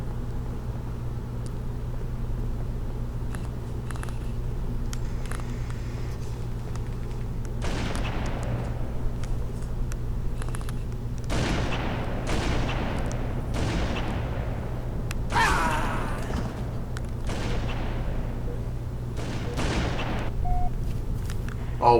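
Gunfire from a Halo Reach or Halo 3 multiplayer sniper match: several sharp reports at irregular intervals, each with a bright crack and decay, over a constant low drone.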